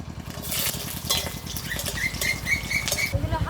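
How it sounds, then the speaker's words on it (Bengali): Ginger, garlic and dried chilli fry in mustard oil in a kadai, giving a close, busy crackle and sputter with a rapid pulsing pattern throughout, no voices. "কড়াই বসিয়ে দেবো সর্ষের তেল আদা রসুন আর শুকনো লঙ্কা এগুলো আমি তেলে ভেজে নেবো"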